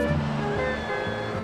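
Sea waves washing onto the shore right beside a seaside campsite in Sardinia, a steady close rushing surf that fills the whole short stretch, with faint tonal background sounds over it.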